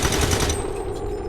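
Rapid automatic gunfire from XCOM 2, a loud continuous burst of closely spaced shots filling the whole moment, fading slightly toward the end, no talk.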